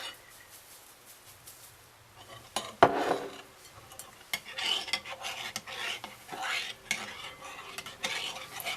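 Spoon stirring a gelatin and granulated Splenda mixture in a bowl for an almond float dessert, giving soft scraping and clinking strokes that grow busier partway through, with no talking.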